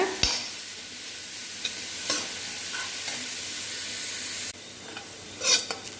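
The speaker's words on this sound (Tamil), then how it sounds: "நல்லா பொன்னிறம் வர வரைக்கும் வறுத்துக்கோங்க." Onions fry steadily in a pan, a continuous hiss with occasional scrapes and clinks of a spatula stirring through, heard close with no talking.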